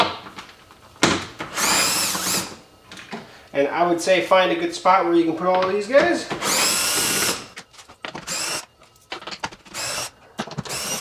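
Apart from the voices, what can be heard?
small drill removing 10 mm bolts on Tesla Model 3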